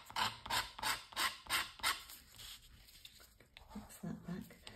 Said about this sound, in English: And I can scrape into this.